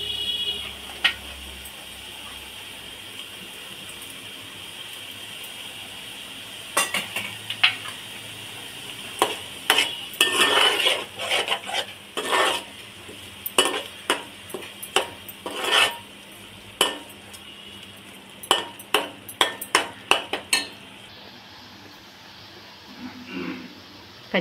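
Onions fry in a pan while a utensil scrapes and clinks against the metal in irregular bursts of stirring, over a steady faint sizzle, with no talking.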